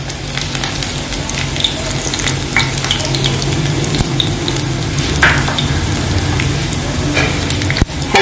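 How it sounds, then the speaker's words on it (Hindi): Chopped ginger, white cumin and green cardamom frying in hot ghee for a mutton dish, a constant close sizzle with crackling pops and the odd clink of a spoon stirring the pan. "अदरक जीरा और सब्ज इलायची ये हल्का सा फ्राई हो चुके हैं।"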